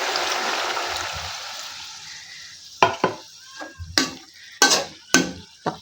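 Water poured into a pan of cooking vegetables including calabaza squash, string beans, sponge gourd, blossoms and shoots, starting with a loud washing sizzle that fades, then a series of sharp clinks and scrapes of stirring and utensils against the pan.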